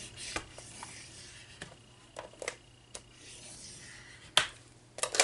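A sheet of paper being scored at half-inch marks for a folio gives faint, close scrapes and soft taps, spaced irregularly over a quiet background with no talking.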